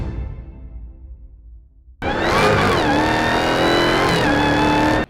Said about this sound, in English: It is the Dodge Charger Hellcat Red Eye White Body